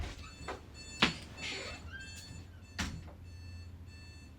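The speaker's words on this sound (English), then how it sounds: "Salaki, give me one moment to cut this alarm on." An early-morning alarm clock chirps in short, faint repeated beeps against a quiet room, with small clicks and a soft rising tone between them.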